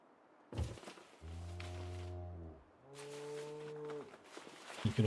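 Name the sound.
cattle mooing outside in the video game Project Zomboid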